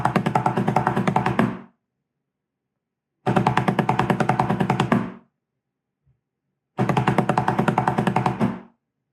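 A drum beats the British NCO call for all sergeants. It plays three separate rolls of seventeen strokes each, and a full beat of silence falls between every roll. The rolls sound close and crisp, with nothing else around them.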